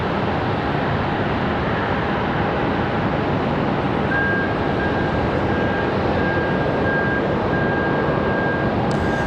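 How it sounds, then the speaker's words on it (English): A United Boeing 737-700 airliner taxiing at Charlotte airport produces a loud, continuous engine roar with a steady high whine, with no talking. "That United we saw landing on the left side, coming around the corner now"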